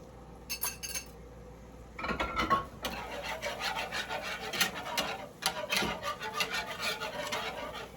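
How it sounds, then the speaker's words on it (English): Thyme stirred into a seafood lasagna sauce in a pot, with a spoon scraping and clinking against the metal in a repeated, uneven rhythm. The strokes are close and moderately loud, with no voices. "now let's add in a teaspoon of the thyme. Stir that right in."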